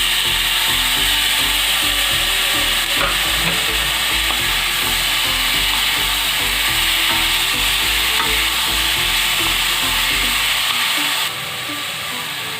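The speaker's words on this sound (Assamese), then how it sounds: "এতিয়া কাটি লোৱা পিঁয়াজখিনি দি দিছোঁ।" Chopped onions sizzle and crackle in a hot pan while butter chicken is cooked, a steady, close, loud frying hiss that carries on without a break, with faint scraping and stirring knocks underneath.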